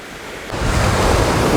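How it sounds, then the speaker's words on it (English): Strong, wind-driven waves roll onto a Lake Winnipeg beach in Manitoba, a loud steady wash of surf that swells after a brief quieter moment, mixed with gusty wind noise. "the waves are coming in pretty strong."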